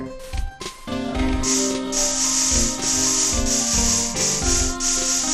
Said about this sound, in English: Keep spraying it all over the floor.